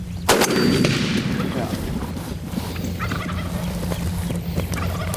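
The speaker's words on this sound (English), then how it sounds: "Reno makes a great shot. He folds the bird right up" A single loud gunshot cracks close by early on during a wild turkey hunt outdoors, followed by a rumbling echo that fades into steady outdoor background noise and faint turkey gobbling.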